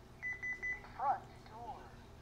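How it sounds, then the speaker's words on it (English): A Honeywell alarm panel in chime mode answers a faulted door sensor with three quick, evenly spaced electronic beeps, followed by a synthesized voice announcing the zone, all heard at moderate level indoors. "you can hear the panel gives you the beep beep chime along with the audible spoken words of front door"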